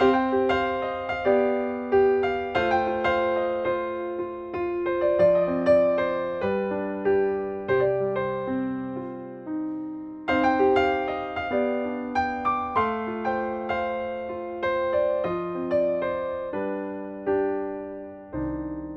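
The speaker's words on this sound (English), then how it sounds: "Here's the sound of the melodic minor in a musical context." Solo piano plays a flowing melody in the melodic minor scale over chords, notes rising and falling in steady phrases with a brief pause midway.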